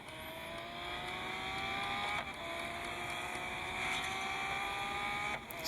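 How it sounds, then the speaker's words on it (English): Engine of a green Lamborghini Veneno supercar driving in a racing video game, a steady high-pitched engine drone with shifting revs that keeps going throughout, close and loud with no talking. "Kind of a wonky driving car."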